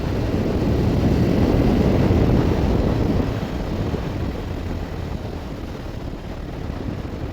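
A 2010 BMW R1200-RT motorcycle pulls at about 60 km/h in third gear on light throttle, its engine drone steady and close beneath a constant rush of wind noise, easing slightly softer partway through.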